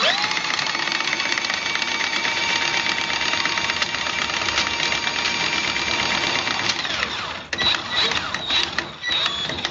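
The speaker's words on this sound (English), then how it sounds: "So we're going to put it forward, and we're going to start running it in." A 20-volt lithium-ion cordless drain auger with a variable speed trigger whirs steadily with a buzzing motor drone, then sputters and varies in speed near the end.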